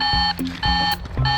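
A toy volcano playset's emergency alarm sounds as a loud electronic beeping tone, repeating in three quick, evenly spaced pulses with brief gaps between them, close and alone.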